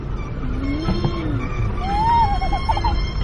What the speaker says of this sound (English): Yeah, the brakes are really bad. It's squeaking.